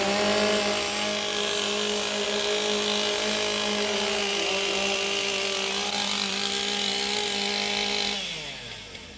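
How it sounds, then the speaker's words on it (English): Several STIHL MS661 chainsaws warming up at a timbersports competition, a loud sustained buzzing drone of overlapping engines revving up and down, then one winding down near the end, with no talking. "Warm up your saws."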